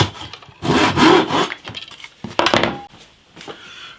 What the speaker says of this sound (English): I'm going to have to chisel out a little bit underneath that neck